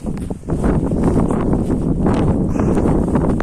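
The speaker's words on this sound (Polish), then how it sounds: "Zawierucha, wiatr bardzo, bardzo wieje tutaj." Strong wind roars across the exposed summit of Śnieżnik mountain, a dense, loud, continuous buffeting with gusts battering the microphone throughout.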